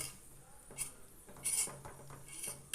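Papaya soap mixture is stirred in a bowl, quiet clinks and scrapes of a utensil against the bowl repeating at an uneven pace, close and fairly soft.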